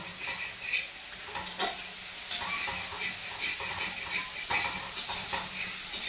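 Prawns frying in a pan in a home kitchen, a steady close sizzle and hiss with occasional stirring scrapes, no talk over it.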